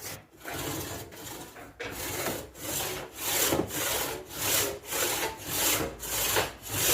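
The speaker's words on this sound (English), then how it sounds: "You hear me tapping the handle as I'm pushing the full length of the saw." A hand saw cuts through wood in steady back-and-forth strokes, each rasping pass rising and falling in a regular rhythm, close and loud.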